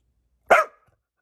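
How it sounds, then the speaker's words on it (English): A single loud, sharp bark from a dog indoors, one short burst that fades quickly into silence. "Oh, that's a loud bark."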